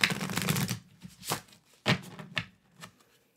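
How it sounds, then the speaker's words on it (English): Lenormand oracle cards shuffled by hand: a long riffling burst followed by several shorter flutters and taps, close and clear, with no speech. "So, give a little shuffle to these cards."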